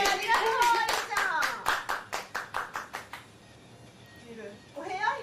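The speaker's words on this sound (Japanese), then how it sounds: "皆さん拍手" A handful of people clap together to welcome a guest at an online drinking party, a short burst of sharp claps that thins into a slow rhythmic beat before fading, with a voice speaking over the start and again at the end.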